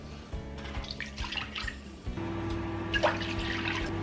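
Two cups of warm water poured into a floured mixing bowl in a home kitchen, a steady splashing stream that thickens and grows louder partway through, close by with no talking.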